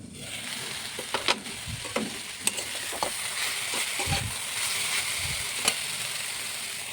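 A pan of leafy greens seasoned with green chilli, salt and turmeric sizzles steadily, with occasional utensil knocks and scrapes as it is stirred and no voices.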